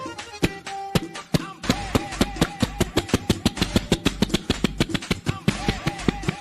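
A voice imitating a generator starting up, with rapid rhythmic sputtering bursts that speed into a steady chugging pulse, loud and close, with brief vocal sounds at the start.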